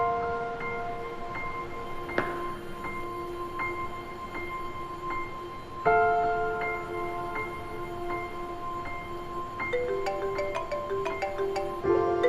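A phone ringtone plays a repeating electronic melody of bright, sustained tones over quiet room ambience, the pattern building into a busier run of notes toward the end.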